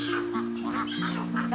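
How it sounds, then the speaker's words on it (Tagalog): A duck quacks several times in quick succession, close and clear, over a steady low background hum in an old-town setting in Negros Occidental. "Ang pato."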